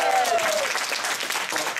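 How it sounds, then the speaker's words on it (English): An audience at a company event breaks into brief, lively applause, a dense wash of many hands clapping with some voices mixed in. "So can we give our products a round of applause?"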